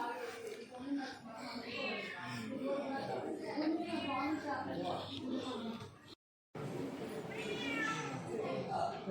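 A cat meows repeatedly among chattering people at a hillside temple near Madurai, the mews faint and mixed into steady talk throughout.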